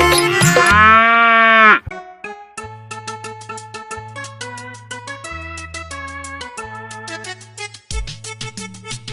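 A cartoon cow in a children's song gives one long, loud, wavering moo up front, then a bright, bouncy melody with a steady bass line takes over.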